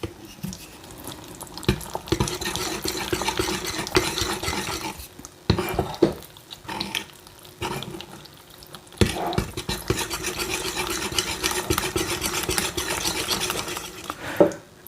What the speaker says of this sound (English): And stir this together. And I'm using this Danish dough whisk, I guess it's called.